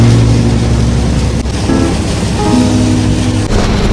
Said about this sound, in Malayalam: ഒടുക്കത്തെ കാറ്റുണ്ട്, മഴയുണ്ട്.